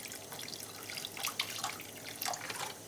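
Water pouring into a pot of braised cutlassfish with radish, a close, faint trickling splash lasting a few seconds with no voices.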